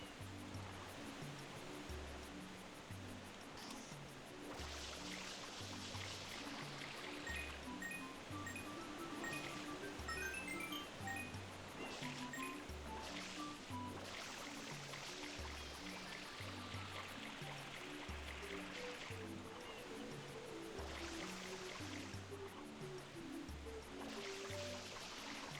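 Waterfall flowing in Super Mario Sunshine's Baia Paradiso level, a steady broadband rush of water running throughout under rhythmic game music, with no talking.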